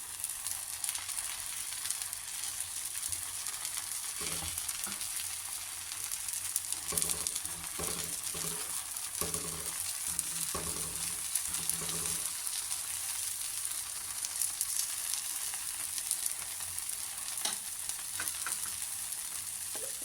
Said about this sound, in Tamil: கார சட்னி வச்சு நல்லா எல்லா பக்கமும் படுற மாதிரி தடவி விடணும்.